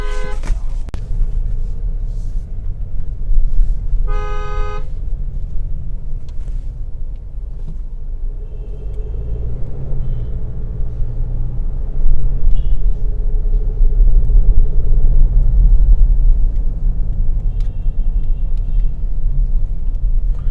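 A Mercedes GLE 250 drives through light city traffic, its low cabin rumble steady throughout, with a short car horn toot early on and road noise swelling later.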